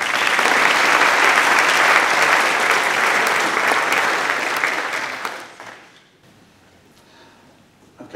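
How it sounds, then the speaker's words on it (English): An audience at a University of Bristol physics prize-giving gives a loud, dense round of applause that holds steady for several seconds, then fades out into near quiet. "please give him a round of applause."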